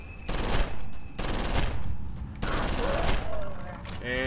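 Bursts of automatic gunfire from an enemy's gun in the video game Condemned: Criminal Origins, three long loud rattling volleys separated by short gaps, with a brief voice near the end.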